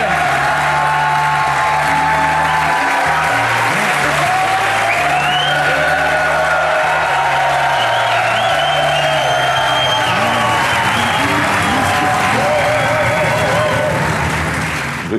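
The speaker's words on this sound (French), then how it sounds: "Bravo, applaudissez-les." Sustained loud applause from a television studio audience, with voices and cheering mixed in throughout.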